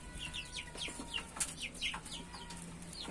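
Young Splash Wyandotte chickens and roosters chirp in quick, scattered high peeps with low clucks underneath, close and moderately quiet.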